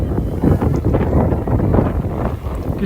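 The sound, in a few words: gusty wind at Castle Combe circuit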